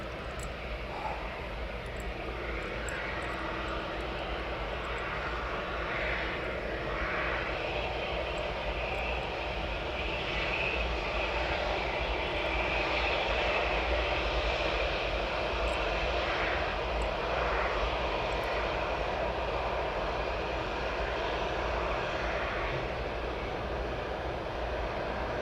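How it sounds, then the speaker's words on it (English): Aircraft engines drone steadily at an airport as planes push back and taxi toward the runway threshold, a constant distant roar with slight swells and no voices. "We've got a nice line-up of aircraft pushing back and taxiing up to the threshold."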